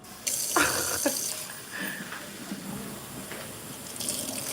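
A small child splashes and plays with running water at a tap or sink, with irregular splashes and trickling close by and no talking.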